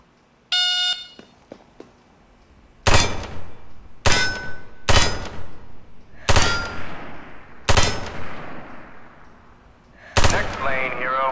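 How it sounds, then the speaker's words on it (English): Rifle shots on a firing range in America's Army: Proving Grounds, six loud sharp cracks spaced a second or so apart after a short ringing tone, each with a metallic ping as pop-up targets are hit, a voice briefly overlapping at the end. "Load one magazine and prepare to put lead down range."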